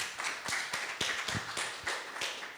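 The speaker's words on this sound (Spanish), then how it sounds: "lo recibimos con un fuerte aplauso" An audience at a conference on Lima's patriotic march and national anthem claps to welcome a speaker, sparse individual claps with a loose rhythm, fairly quiet and close.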